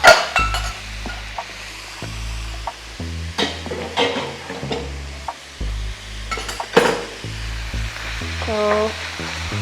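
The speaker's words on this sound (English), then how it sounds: "Now add the meat, ground beef." Ground beef and turkey sausage fry in a pan while a wooden spoon breaks them apart. A close sizzle runs under sharp scrapes and clanks of the utensil against the pan, with no talking.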